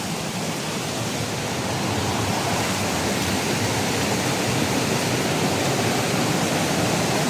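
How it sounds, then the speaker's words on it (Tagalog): A powerful mountain spring in Occidental Mindoro gushes in a constant, dense rush of flowing water, loud and even throughout with no talking. "Lakas ng tubig."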